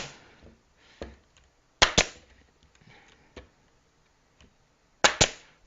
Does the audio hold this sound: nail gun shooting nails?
yes